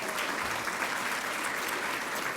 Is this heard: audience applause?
yes